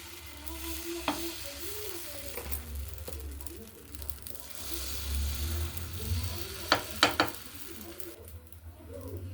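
Small dosa batter sizzling on a hot griddle, a soft steady frying hiss with low background hum, a few sharp utensil clicks near the end.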